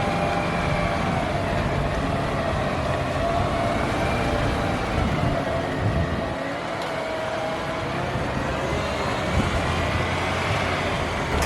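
A light rail train in San Diego gives a steady, loud rumbling roar with a faint whine at a station on a new extension, continuous and without talk.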